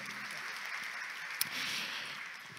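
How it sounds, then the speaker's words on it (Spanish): A symposium audience gives a round of applause, soft and fairly distant, a steady patter of clapping with one sharp louder clap near the middle. "Por favor, un fuerte aplauso para ustedes."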